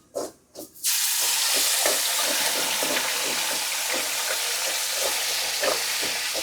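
Red belly fish drops into hot coconut oil, and after a short quiet moment a loud, steady hiss and crackle of deep frying sets in and carries on close up.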